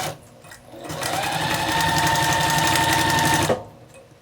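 A sewing machine runs steadily for about two and a half seconds, stitching two fabric scraps together at a quarter-inch seam, a close, even mechanical whir that starts and stops cleanly.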